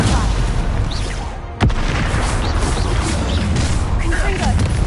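A Confringo blasting spell goes off in the Hogwarts Legacy video game as one sharp crack and boom at the start, followed by a dense, rumbling wash of battle noise with no clear talk.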